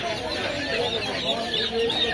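Baby chickens for sale at a market peep in shrill, repeated high chirps, close by and fairly steady, mixed with background chatter and market bustle.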